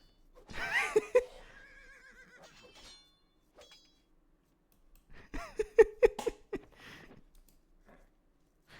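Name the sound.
horse neighing in a video game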